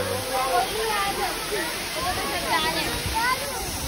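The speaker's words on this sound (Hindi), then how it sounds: "ये पूरा वाटरफॉल पानी इतना तेज आ रहा है यहाँ पे" Strong rushing roar of a waterfall on a tour in Muzaffarabad, a dense steady wash close by, with people talking over it throughout.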